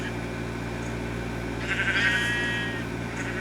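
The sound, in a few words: sheep bleating in a minecart in a video game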